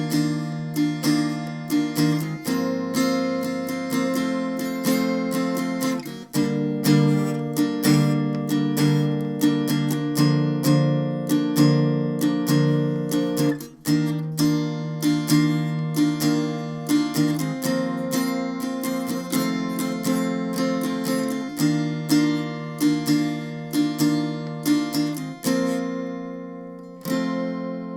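Electric guitar plays the first verse of a song slowly, steady strummed chords ringing with rhythmic picked attacks, close and loud with no talking.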